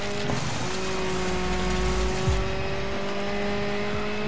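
A rally car engine in the racing game Dirt 5 drones steadily at high revs, a loud continuous buzzing tone that shifts pitch once, with no talk over it.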